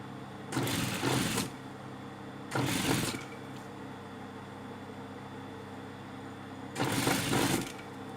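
A sewing machine stitches a curved edge of thin fabric in three separate short runs, each about a second long, with quiet pauses between them.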